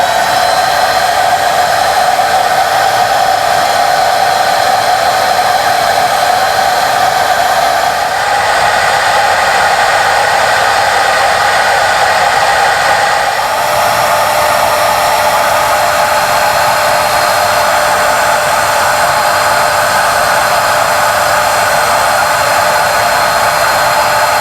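A vacuum cleaner sucks metal debris out of a Porsche 928 engine cylinder, producing a loud, continuous airy roar that runs unbroken for the whole stretch with only slight shifts in pitch.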